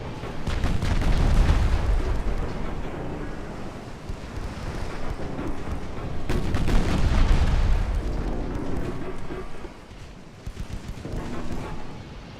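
Naval guns and torpedo launches boom from a battleship engagement in a 1900s Japanese-Russian naval warfare game, with two heavy rumbling surges of explosive fire and continuous battle noise.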